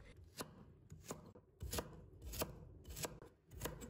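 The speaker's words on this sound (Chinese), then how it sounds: "然后切成小碎丁" A knife chops food, likely carrot, into small dice on a cutting board in a home kitchen, with sharp, rhythmic strikes in quick bursts separated by brief pauses, close and distinct with no talking.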